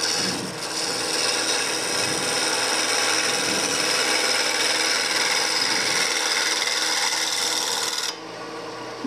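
A woodturning scoop's wing making a shearing cut on spinning wood on a lathe, a continuous loud rasping, hissing scrape under steady motor hum that cuts off abruptly near the end.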